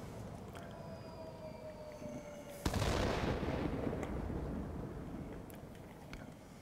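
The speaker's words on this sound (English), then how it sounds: "Let's drop a bomb here." An aircraft-dropped bomb explodes in a flight combat game with the Westland P.1056 jet, a sudden loud blast followed by a long rolling rumble that slowly fades, with a few faint later pops.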